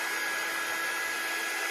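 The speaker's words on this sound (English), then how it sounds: "Be careful with a hairdryer or an air dryer" Hair dryer blowing steadily to dry chalk paste on a Chalk Couture craft project, a constant close airy whoosh with a high whine, running alone without pauses.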